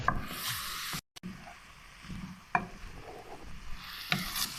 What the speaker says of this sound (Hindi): तो अब हम इसमें डाल देते हैं गोभी। इसको थोड़ा सा भून लेते हैं।